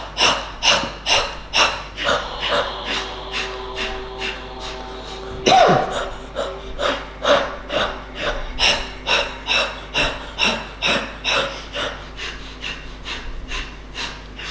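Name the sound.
brisk yoga breathing through the nose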